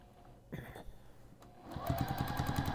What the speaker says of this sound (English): on my machine and I'm going to sew, I believe you can see well, right along the edge of this, like so.